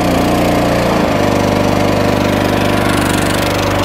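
Eastonmade 12-22 log splitter engine, already warmed up, starting and settling into a loud, steady close-up running drone with a rhythmic chug that steadies after the start.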